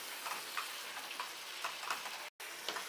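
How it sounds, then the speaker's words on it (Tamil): Pieces of country chicken sautéing in hot oil in a pot for a Tamil chicken curry, giving a steady soft sizzle and crackle throughout with a brief silent gap near the end. "கோழி சேர்த்து நல்லா எண்ணெயிலே கோழி நல்லா வதங்கட்டும்"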